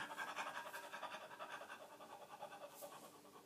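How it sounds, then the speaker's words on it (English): Rapid, forceful breath-of-fire breathing exercise used for vocal stamina: a fast, even train of sharp panting breaths, close and steady for the whole stretch, with no talking. "If I do breath of fire, say I feel tired."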